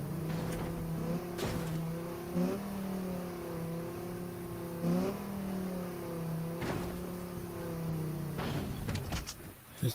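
A car engine in the Fortnite video game revs repeatedly, its pitch rising and falling in waves over a steady mechanical drone with occasional thumps, loud and continuous with no talking.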